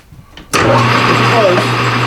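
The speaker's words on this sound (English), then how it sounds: "I'm going to take another slight finish cut" A metal lathe starts up abruptly and runs a steady, loud whirring hum while taking a slight finish cut on a steel flange nut, with a faint scraping tone partway through.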